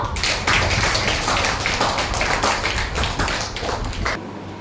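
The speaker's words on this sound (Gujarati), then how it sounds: "તાળી પાડો." Audience applause at a student award ceremony at Shri Datt Sai Vidyalaya school in Porbandar, dense steady clapping from a crowd, loud and sustained for several seconds before tapering off at the end.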